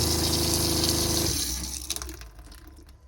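Water gushes loudly from a hot tap at full pressure in a Toyota Coaster bus conversion, then the flow is cut off and only a few drips and small clatters remain.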